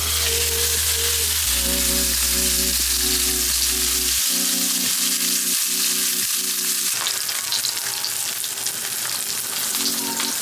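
An A5 Wagyu steak sears in a hot pan with a continuous, even sizzle that carries under steady background music.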